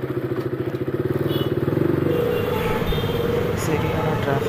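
A motorcycle with a damaged chain sprocket idles with a steady low throb, then revs up into a rougher, busier rumble as it pulls away into traffic noise.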